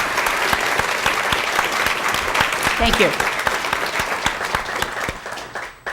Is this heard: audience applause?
yes